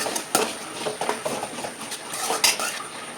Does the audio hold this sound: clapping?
no